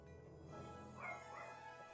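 A pet puppy gives a few short, yipping barks and whimpers at close range, fairly quiet, with a faint hum in the background.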